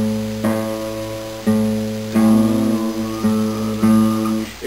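Acoustic guitar strings plucked repeatedly, notes ringing out in turn as if being compared for tuning, no voices.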